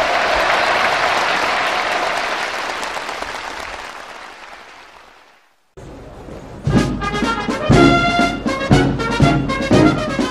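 Loud cheering and applause from a large crowd at a 75th anniversary ceremony of the Mangyongdae and Kang Pan Sok Revolutionary Schools, fading out, then a brass band striking up with strong rhythmic chords.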